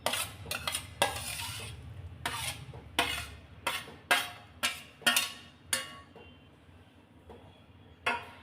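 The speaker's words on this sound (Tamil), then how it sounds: "இப்போ மண் சட்டியில் நான் எல்லா நார்த்தங்காயும் சேர்த்துட்டேன்" Cut citron pieces with their juice tipped into a clay pot for pickle, bringing a series of sharp clinks and scrapes of a spoon against the pot, spaced irregularly and close by.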